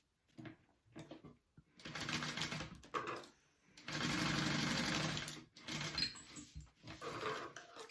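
A sewing machine runs in bursts, stitching pieces of a Zoella handbag: short stops and starts, then longer steady runs of rapid mechanical clatter, close and clear with no talk over it.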